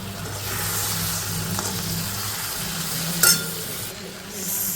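An okra and potato curry simmers in a pan, a soft steady sizzle with a low hum early on and a sharp clink of utensil against metal partway through, with no voices.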